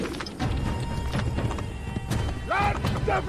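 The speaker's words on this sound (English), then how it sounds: "Horse! It's a horse!" Horse hooves clip-clopping in the video game Assassin's Creed, a quick run of hoof beats under game noise, with a horse whinny near the end and a voice talking over it.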